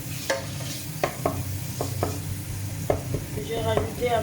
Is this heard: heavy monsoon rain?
no